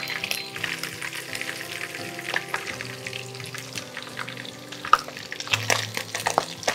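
Pabda fish cooked with hing fry in oil, sputtering with a dense run of sharp pops and crackles over a steady sizzle, close and busy, with no voices.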